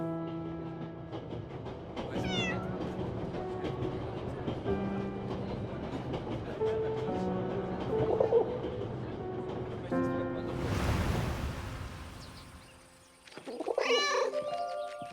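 Cat meowing in the video game 11-11 Memories Retold, a German's cat, heard amid a layered musical score and train-like rumble, with brief meows surfacing over the dense background.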